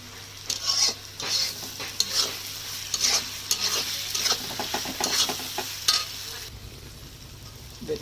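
Meat dropped into a pan of cooked-down spice paste with turmeric, green chillies and whole red chillies, stirred with repeated scraping strokes over a steady close sizzle, the stirring stopping near the end while the frying continues.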